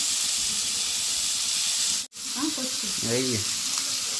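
Green chilies frying and being stirred in a pan, giving a continuous close sizzle with a sudden cut partway through, then brief faint voice sounds over the hiss.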